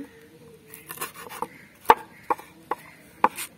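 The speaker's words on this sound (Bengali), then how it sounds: "কাঁচা লঙ্কা কুচিয়ে নিচ্ছি" Green chillies chopped on a board, a handful of sharp, uneven knife knocks, a few standing out louder, spaced over faint background hiss.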